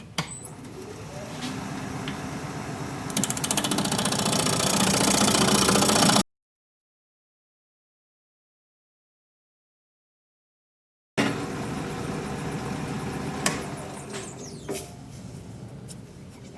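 A wood lathe spins a bud vase blank at about 900 RPM, giving a steady, fairly loud mid-pitched rumble with some rattle. The sound runs continuously, cuts out to silence for several seconds, then comes back at the same level.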